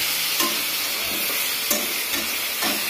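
Potato, tomato and eggplant curry frying in oil, a constant bright sizzle with a few soft stirring knocks spaced through the short stretch.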